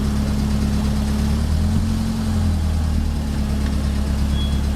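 A Holden Torana TA 1300 idles steadily with a low, even engine drone and constant hum, close and continuous without pauses or talk.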